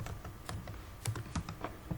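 Rapid, close keystrokes on a computer keyboard, a quick irregular run of soft clicks with a few louder taps, no voices.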